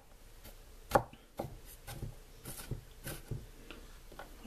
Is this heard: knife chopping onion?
yes